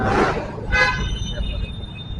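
A jammed two-way road during the commute between Jakarta and Depok, with short car horn toots sounding near and then farther off over a constant rumble of engines and traffic, and voices talking underneath.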